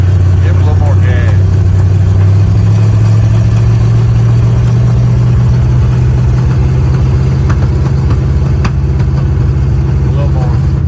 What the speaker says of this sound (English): Give it a little more gas.